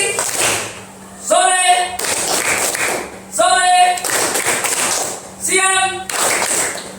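A group of students claps hands in a rhythmic routine, with short bursts of clapping alternating with voices chanting in unison, loud and close in an indoor room.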